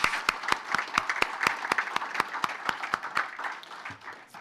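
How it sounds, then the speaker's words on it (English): Applause for a recreational fishing roundtable panel: a small audience claps in a fairly regular rhythm, distinct individual claps standing out and thinning toward the end, heard at a moderate distance. "Let's have a round of applause for this panel"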